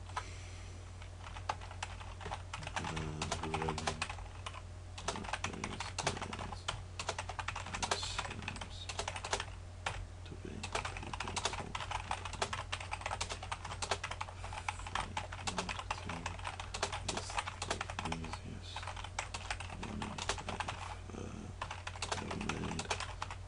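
Steady, continuous typing on a computer keyboard while a blog post is written, the close clicking keystrokes running throughout with a constant low hum beneath and no talking.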